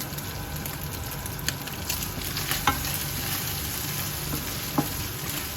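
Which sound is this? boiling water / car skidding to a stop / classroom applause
boiling water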